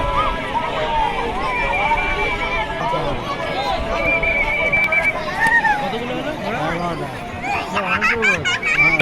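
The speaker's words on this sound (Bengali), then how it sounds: "এই ঘোড়াগুলো লাইনে লাইনে যাচ্ছে প্রথমে ঘুরে আসবে" Racehorses at a village horse race in Gaurdah during a Baisakh fair, with repeated neighs and whinnies over galloping hooves, loud and close, set against a babbling crowd and nearby talk.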